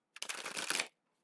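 A deck of reading cards is shuffled in one quick riffle lasting under a second, a dense crisp burst of flapping card edges that stops abruptly, close and alone.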